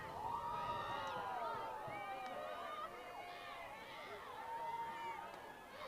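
Continuous crowd murmur and scattered shouts from a college softball audience at Alabama vs Samford, steady and moderately distant, with no single voice standing out.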